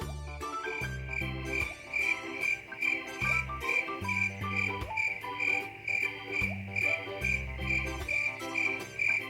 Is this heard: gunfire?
no